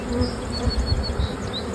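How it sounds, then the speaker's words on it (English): Honey bees buzz steadily around a beehive housing a double nuc colony, a close, continuous drone with individual bees flying past the hive. "Bees are getting on together."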